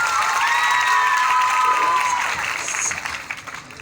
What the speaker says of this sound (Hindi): अच्छा लगा तो एक बार फिर तालियां बजाएं।